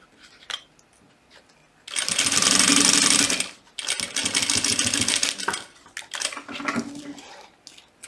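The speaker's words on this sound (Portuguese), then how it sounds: "E aqui você vai passar uma costura de segurança, uma costura na beiradinha" A sewing machine runs a safety seam along a fabric edge in two loud, fast bursts of stitching, then shorter, stuttering runs, with quiet gaps and small clicks between.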